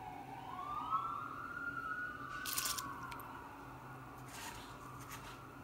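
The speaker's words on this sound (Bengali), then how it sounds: "অ্যাম্বুলেন্স এখন মানে যখন যায়" An ambulance siren sweeps past, rising and falling as it approaches and recedes over steady traffic noise, with a couple of sharp clanks partway through.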